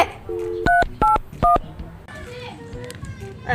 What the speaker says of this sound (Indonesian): Gua telepon deh tukang AC.